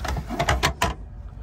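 A fold-out seat-back table is opened on a French high-speed double-decker train, giving a quick series of four mechanical clicks and clacks close by, then a quiet carriage hum.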